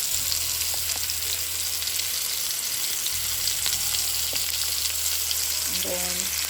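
Turkey burgers and onions fry in a pan with a steady, loud, close sizzle that runs throughout, punctuated by a few faint clicks and no talk.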